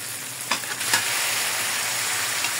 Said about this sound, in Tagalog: igisa na natin ngayon yung baka natin